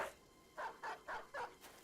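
A war dog in the tactical RPG Battle Brothers barks four times in quick, evenly spaced succession, with a softer fifth yap trailing off; the barks sound fairly close and stand alone without talk.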